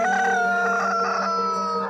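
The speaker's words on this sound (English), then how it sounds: "a rooster began to crow" A rooster crows once, a loud, close, sustained cock-a-doodle-doo that holds its pitch before tapering off, with no other sounds.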